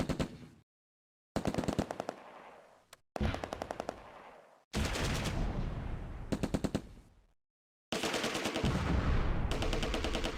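Machine gun fire from the Close Combat: A Bridge Too Far WWII strategy game, set near Arnhem during Operation Market Garden. Several loud, rapid bursts of rattling shots are separated by brief silences, with no talk.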